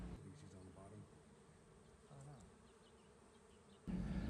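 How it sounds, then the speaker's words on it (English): Honey bees in an overwintering hive box give off a steady, dense buzz that hums on throughout, close and moderately loud, with a louder rustle near the end. "I didn't realize there's going to be so many bees in this box."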